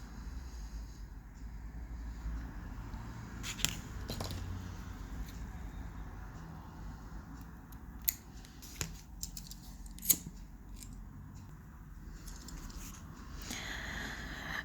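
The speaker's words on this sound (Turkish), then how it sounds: "Şimdi burada bütün iplerimizi kesip yakabiliriz." Scissors snip through tatting (shuttle lace) threads in a handful of sharp, quiet cuts scattered across a low, steady room hum.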